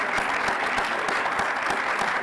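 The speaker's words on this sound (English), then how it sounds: "Those guys deserve a special round of applause." An audience applauds at a school senior awards ceremony, a dense, steady wash of many hands clapping in a hall, fairly loud and without speech.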